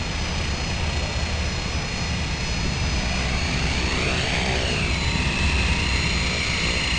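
An Esky FP2 RC airplane comes in to land, its small electric motor whining steadily and continuously throughout, with a pitch sweep as it passes close and then recedes.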